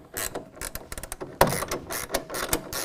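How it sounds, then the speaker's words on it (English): A half-inch ratcheting wrench tightens a clamp for a soft roll-up tonneau cover on a 2017 Nissan truck bed, giving quick bursts of close ratchet clicks with one sharper knock partway through. "I'll go ahead and tighten that down again with our 1/2 inch ratcheting wrench"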